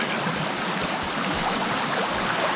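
Steady rushing water of a river in the survival game Sons of the Forest, a broad continuous wash of flowing noise at moderate loudness with no talking over it.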